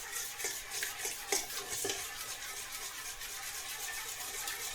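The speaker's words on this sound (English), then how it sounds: "while we're stirring this is also aerating the mixture mechanically" Muffin batter of liquid ingredients and sugar being stirred in a bowl, a steady scraping swish with a few sharper clinks of the spoon against the side, close and continuous.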